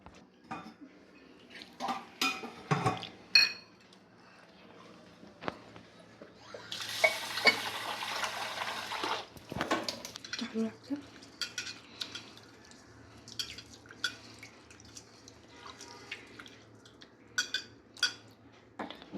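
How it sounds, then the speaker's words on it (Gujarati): Rice being washed by hand in water in a bowl, with wet clinks against the dish, swishing and a brief rush of water in the middle; close and moderately quiet, no talk. "ચોખા આપણે 2 પાણીમાં ધોઈ લઈશું"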